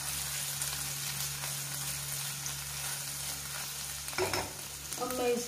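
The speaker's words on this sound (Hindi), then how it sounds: "अब मैं इसको थोड़ा फ्राई करूँगी इसको अच्छे से मिला के" Ulta vada paav mixture frying gently in a pan over a low flame, with a steady soft sizzle over a low hum and a few louder stirring scrapes near the end.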